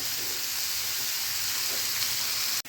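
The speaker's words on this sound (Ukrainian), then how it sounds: "Коли смажимо цибульку, вогонь потрібно зменшити до середнього." A steady, dense sizzle of salted onions frying in a pan over medium heat, close up and constant, with a faint clink near the end.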